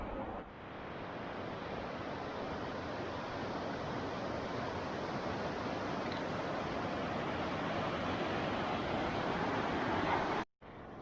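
A waterfall roars in a steady, dense wash of falling water, close and constant throughout, with a brief dropout near the end and no voices.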